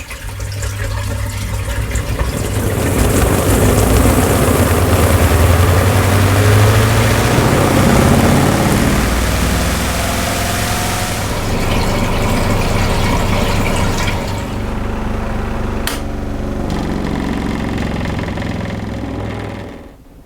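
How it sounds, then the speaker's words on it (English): A Leisurewize Portawash portable washing machine drains and spins, giving a loud steady motor whir with a rushing, watery churn that runs on continuously before fading at the end. "we can start draining the wash tub by turning the selector to drain. And simultaneously,"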